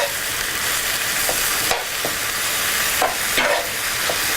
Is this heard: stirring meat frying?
yes